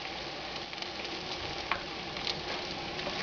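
A quesadilla fries in a pan with a soft, continuous sizzle and light crackle, close and fairly quiet.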